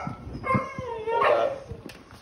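Puppy in a house making short, high yips and whiny barks, two or three quick sounds close by among faint household shuffling.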